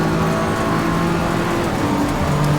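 A race car engine from Assetto Corsa Competizione at Suzuka holds a steady, loud, close drone through the whole stretch, with a constant tonal hum and no voices.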